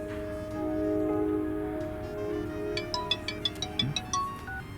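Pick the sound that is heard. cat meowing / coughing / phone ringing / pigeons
phone ringing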